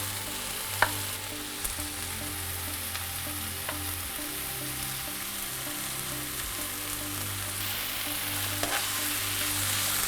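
Chicken pasta sauce simmering and sizzling in a pan while oregano, parsley and other dried seasonings are stirred in, a steady moderate sizzle with a few faint spoon taps and a low background hum.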